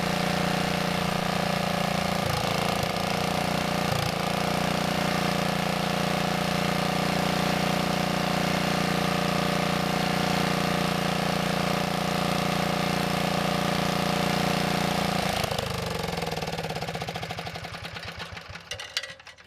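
Small single-cylinder engine of a Wheel Horse Model 401 lawn tractor running steadily at a somewhat fast idle, loud and close with a constant drone, then sputtering and dying away near the end.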